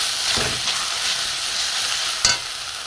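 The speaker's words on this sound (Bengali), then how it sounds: "চিনির রসে ডোবানো ছিল, আমি এটা ভেজে নেব।" Sugar-syrup-soaked soybean and milk pitha fries in a pan with a continuous sizzling hiss, stirred now and then, with a sharp louder burst near the end.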